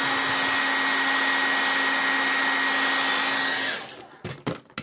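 A hair dryer blows hot air onto vinyl decals on a holiday buggy, a loud steady whine that cuts off near the end, followed by a few handling knocks.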